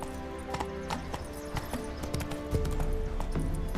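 Roach the horse from The Witcher 3 galloping, a quick steady clip-clop of hooves close by, continuous and rhythmic over a soft ambient game background.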